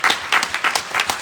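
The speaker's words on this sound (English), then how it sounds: "Big round of applause." Town hall audience in a New York City gathering applauding in bursts of clapping, loud and close, with no talk over it.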